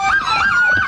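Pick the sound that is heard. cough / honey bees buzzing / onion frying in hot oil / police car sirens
police car sirens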